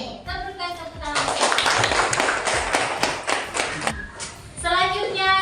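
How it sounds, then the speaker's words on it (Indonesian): Children in a classroom clap their hands together for about three seconds, a dense burst of many claps, with speech before and after. "Kita berikan tepuk tangan."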